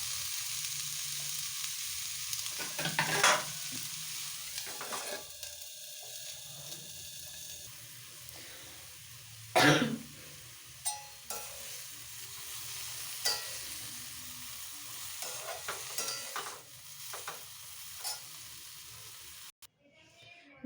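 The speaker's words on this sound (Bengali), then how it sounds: "ফুলকপিটা ভেজে নিচ্ছি, অল্প তেল দিয়ে ভাজছি" Cauliflower fries in a little oil with a quiet, steady sizzle and crackle. Sharp clinks and scrapes of a spatula stirring in the pan cut in now and then, with faint background sounds.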